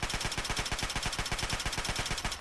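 Submachine gun from Fallout 3 fires in one sustained automatic burst, a rapid, even rattle of close, loud shots lasting the whole stretch with no talking.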